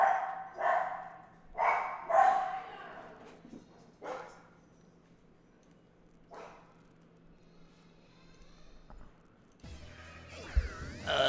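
A dog barks in several loud, close bursts early on, then gives a few scattered barks before going quiet, and other household noise comes in at the end.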